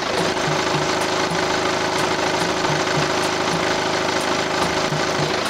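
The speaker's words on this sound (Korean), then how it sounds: "자 엔진 소리 한번 들어볼게요 잡음이 있는지 없는지" A diesel family car idles steadily with an even, rhythmic clatter and a low hum, close up and loud, with no voices over it.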